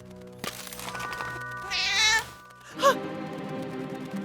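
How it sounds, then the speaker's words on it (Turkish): An animated cat in a cartoon gives two drawn-out, tonal meows, the second short and sharp, heard close and clear over a soft backdrop of background music. "Hey, bu kediyi kim aldı?"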